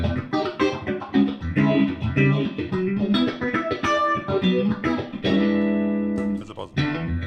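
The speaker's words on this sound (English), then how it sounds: "Here's what the phaser sounds like in comparison" Electric guitar chords and notes swirling through a phaser effect, loud and continuous, with sustained ringing chords toward the end.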